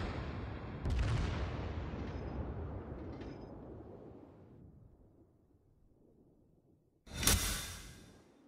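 Naval gunfire from the battleship Kongo in World of Warships: a deep rumbling boom that fades slowly, then a sharp, loud close blast near the end. There are no voices.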